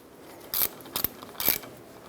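A ratchet threads a brake hose banjo bolt into the rear caliper of a Ford E-350, giving three short, close clicking bursts spaced about half a second apart, with no talking.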